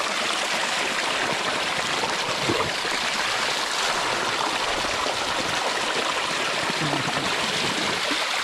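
Water gushes under strong pressure from an irrigation pipe, a steady, loud, broadband rush that holds without a break throughout, close by and alone with no talk over it.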